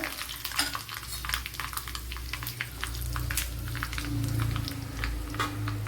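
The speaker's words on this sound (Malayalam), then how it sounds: "ടേബിൾ സ്പൂൺ കടുക് ഇട്ട് കൊടുത്തിട്ടുണ്ട്. അതിലേക്കൊരു 3 പച്ചമുളക് കട്ട് ചെയ്ത് വെച്ച് കൊടുക്കുക." Mustard seeds and chopped green chillies fry in hot oil, a low steady sizzle broken by many sharp, scattered pops and crackles, close and continuous with no talking.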